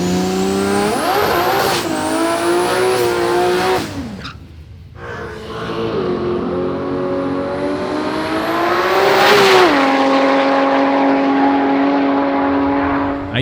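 A Barra-powered, nitrous-fed coupe running mid-8-second passes at a street drag event, screaming through its gears with loud rising engine notes, a brief drop between shifts, then a sustained high-revving howl close by.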